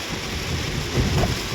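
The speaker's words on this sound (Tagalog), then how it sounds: "malakas ang ulan." Heavy rain with thunder in Palawan, a dense steady downpour hissing close by while a low rumble of thunder swells near the middle.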